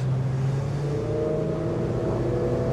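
An Axopar 28 Cabin boat, 2020 model, powered by a Mercury Verado outboard, accelerates gently toward planing speed, giving a steady, continuous engine drone with a low hum and rising tone under constant wind and water noise.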